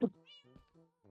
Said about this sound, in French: Il y a tes chats.